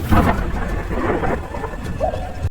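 A thunderstorm with heavy rain and gusting wind in an animated horror story, with a loud rumbling roll of thunder over dense, continuous rainfall.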